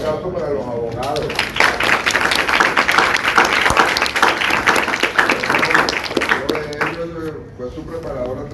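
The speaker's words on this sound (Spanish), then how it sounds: "Un aplauso para los abogados" Applause for the lawyers at a ceremony, with dense clapping from a crowd building quickly and sustained for several seconds before fading, and some voices mixed in.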